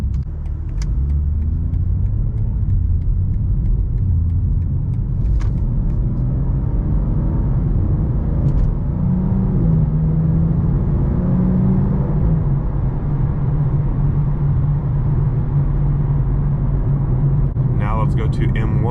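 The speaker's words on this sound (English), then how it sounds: "And right now we're just in the quiet mode. So we have the exhaust valves closed right now." Low, steady exhaust drone inside a BMW G87 M2 with a MAD single midpipe, running in quiet mode with the exhaust valves closed; a constant muted rumble fills the cabin throughout, with a voice talking over it.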